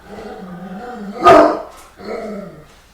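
A nearby dog growls low, lets out one sharp loud bark, then goes back to a rumbling growl.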